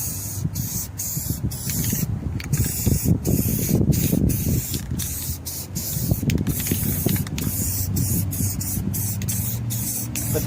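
Aerosol spray paint going onto a Brinly plow in John Deere yellow, steady hissing bursts broken by short pauses between passes, close and fairly loud over a low windy rumble.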